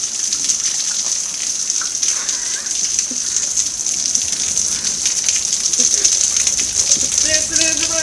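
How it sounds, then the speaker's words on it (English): Heavy rain pours steadily outside, with overflowing gutters gushing in a dense, constant wash of water; a few faint voices surface near the end. "It's raining worse over there because the gutters are piping."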